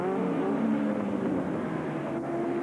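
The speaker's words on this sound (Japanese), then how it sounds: "カーナンバー6番のテキサコフォードシエラです。" A Texaco Ford Sierra touring race car, car number 6, in 1987 World Touring Car Championship racing, drones loudly and steadily as it powers out of a hairpin, its engine note holding close and continuous.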